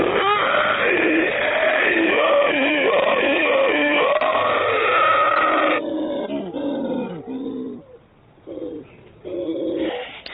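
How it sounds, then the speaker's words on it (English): Howler monkeys roar from the forest in deep, rolling, guttural howls, loud and continuous at first, then breaking into shorter grunting bursts with gaps, fairly close and without talk. "That's where he emits that great sound you hear, hence the term howler monkey."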